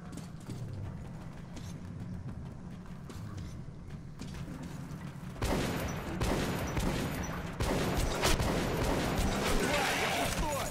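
Gunfire in the video game Metro 2033 Redux crackles in sharp bursts, growing louder and denser partway through, mixed with mechanical clatter and a voice.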